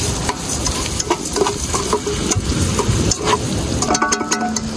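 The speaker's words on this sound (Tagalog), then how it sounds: "So, haluin natin ulit." A sticky cooking mixture is stirred over a fire outdoors by the sea, with loud, continuous scraping and slapping and a crackling sizzle underneath.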